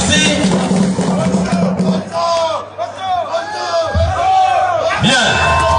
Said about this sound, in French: Cela s'applaudit très très fort.